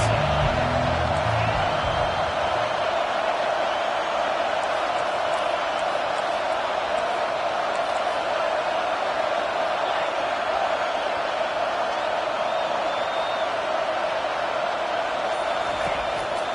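A football stadium crowd roars steadily through a tense third down in an OU versus Arkansas game, urging on the defense with a loud, unbroken wall of cheering and a few thuds early on.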